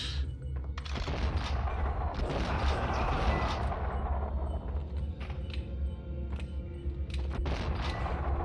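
Dense pistol gunfire and action noise from the game Max Payne, a sustained loud barrage of overlapping shots and clatter with no pause, followed by sharper scattered reports and mechanical creaks as it thins out.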